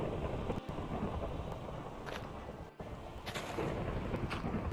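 Rain and rolling thunder from a Minecraft game played in Vivecraft VR with a shader, a steady loud downpour with deep rumbles swelling through, heard alone without talk.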